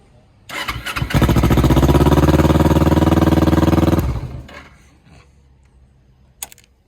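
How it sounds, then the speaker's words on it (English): A 2010 Kawasaki Ninja 250R motorcycle engine fires up and revs loudly for about three seconds, a raspy exhaust roar that drops away, followed by quiet idling and a faint click. "the sound of the exhaust is not good"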